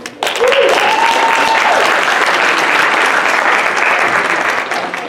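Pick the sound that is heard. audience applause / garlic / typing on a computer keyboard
audience applause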